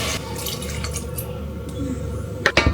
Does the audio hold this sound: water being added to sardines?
yes